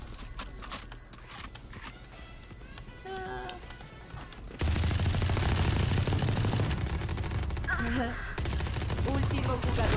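Rapid bursts of Valorant gunfire crackle over game music and effects, with a voice chattering intermittently throughout.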